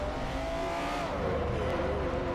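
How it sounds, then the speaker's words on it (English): A McLaren F1 race car engine in a racing video game hums steadily, its tone rising and dipping slightly as the revs change, fairly quiet. "Oh, it's such a beautiful engine noise."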